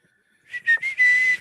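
A single person whistles a short, bright tune of a few sustained notes, close and clear against a quiet background, with no talking.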